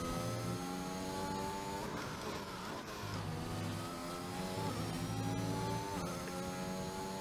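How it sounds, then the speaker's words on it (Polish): In the F1 2021 video game, a Ferrari Formula 1 car's engine screams during qualifying at the Belgian circuit, with repeated rising revs and sharp drops at gear changes, loud and continuous with no talk. "Podgłosimy nasze odbiorniki i wsłuchajmy się w ten piękny dźwięk Ferrari."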